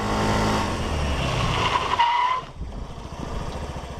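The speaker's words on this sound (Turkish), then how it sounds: "ön frene abanıp ön lastiği böyle kaydırmak falan zor" A Yamaha D'elight motor scooter engine revs loudly as the front tire screeches in a short skid under hard front braking, then the engine drops to a lower rumble.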